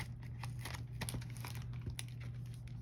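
Faint crinkling and tearing of tape and plastic as a taped mail package is pulled open, a quick string of close rustles over a low background hum.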